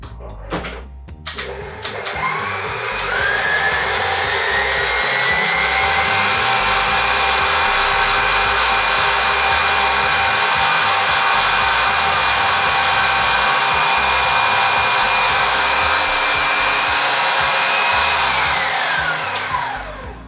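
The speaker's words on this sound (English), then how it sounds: "if your machine's struggling to incorporate all the eggs" A stand mixer runs steadily while working eggs into sweet shortcrust pastry dough, a loud continuous motor whir close up after a few brief knocks at the start, with no talk.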